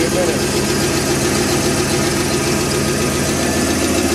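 A car engine idles steadily while warming up, a continuous low rumble with mild vibration, close and moderately loud with no pauses throughout, in a vehicle fitted with a high-power bass stereo.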